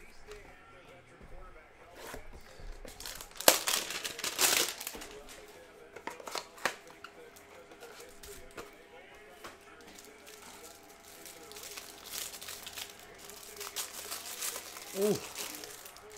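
Foil hanger packs of 2019-20 Panini Mosaic Basketball cards crinkle and tear open in bursts of close crackling and ripping, with quiet handling between and some speech in the background.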